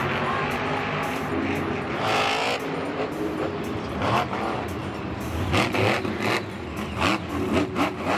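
A Bakugan Dragonoid Monster Jam monster truck engine roars loud and close. The rumble is continuous and noisy for several seconds, with surging swells and no talking.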